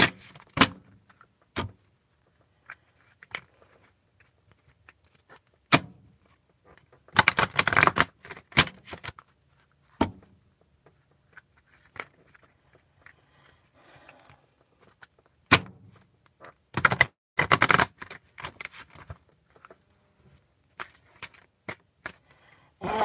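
Bursts of tarot cards being shuffled, quick riffling flurries separated by pauses with occasional taps and thuds from handling.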